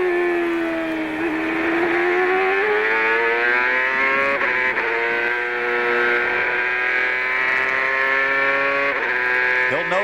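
A CART race car on a hot qualifying lap at Road America in 2002, its engine screaming loud and steady with harmonic pitch climbing through gears, brief dips at shifts, and no talk over it.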